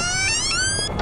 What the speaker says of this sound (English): It's not all these door creaking sounds.